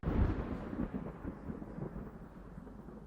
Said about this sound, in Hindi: जब बादल गरजता है और फिर जब लाइटनिंग होती है यानी